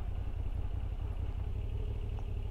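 A Moto Guzzi V7 Stone motorcycle engine runs while riding, a low, thumpy, steady rumble at moderate level with faint clatter and no talking.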